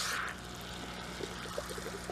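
Water trickling from the outlet lines of a closed hydroponic system while its pump runs, a soft continuous pouring with a low motor hum beneath and faint splashes, quiet and close.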